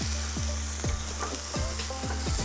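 Steak searing on an electric grill, a loud continuous sizzle broken by regular scraping, tong-like knocks about every half second, close and without speech.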